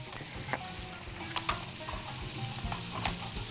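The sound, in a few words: rice toasting and being stirred in a pan on the stove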